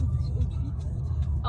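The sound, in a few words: car driving in Paris, heard from inside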